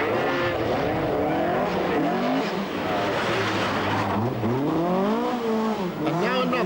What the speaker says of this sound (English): Stephen McWhinney, who opposite locks his Lotus Sunbeam to 9th place.